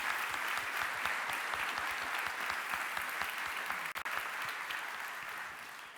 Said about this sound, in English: And I want a round of applause for that,